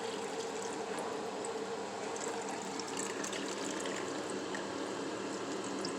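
Hot water is poured from one pot into another for a second boil, giving a soft, continuous gushing trickle that stays fairly quiet and steady throughout.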